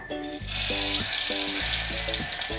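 Garlic hits hot sweet oil in a pan and bursts into a loud, continuous sizzle, with a repeating tonal melody playing underneath.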